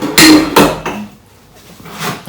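Dishes being washed at home: loud clattering knocks of pots and plates in a few sharp bursts, close up, with a quieter scraping stretch between, no talk.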